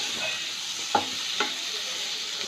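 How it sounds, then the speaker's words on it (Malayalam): Chopped tomato goes into a sizzling biryani masala for egg biryani, leaving a soft steady sizzle and two brief stirring clicks, close and fairly quiet, with no voices. "ടൊമാറ്റോ ആഡ് ചെയ്തു"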